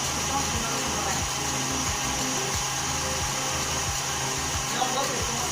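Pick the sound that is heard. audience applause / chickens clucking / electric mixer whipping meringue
electric mixer whipping meringue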